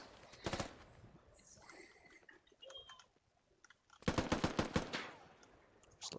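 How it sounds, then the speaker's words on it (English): Gunfire in a competitive tactical shooter match, with bursts of rapid automatic fire at the start and a heavier sustained burst later, separated by quieter stretches of faint game sounds. "Ray TT, shooting at the people"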